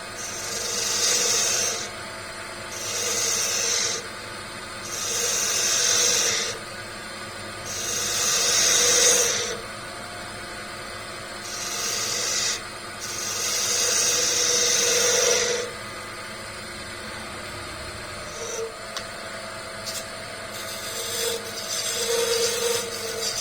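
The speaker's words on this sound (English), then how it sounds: "coming in with my bowl gouge again, and I'm going to take those" A bowl gouge cuts a turned wooden puzzle ball on a lathe, giving a repeated hissing, scraping rasp in steady passes of about two seconds with short pauses between them, close and fairly loud with no talking.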